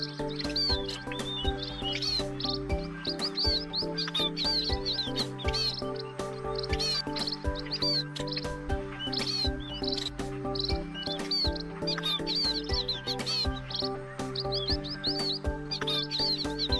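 Robin song: bright, high chirping phrases and quick tweets repeat over a steady musical backing, fairly clear and continuous for the whole stretch.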